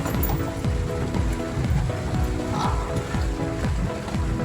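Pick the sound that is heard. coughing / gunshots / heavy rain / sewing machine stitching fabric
heavy rain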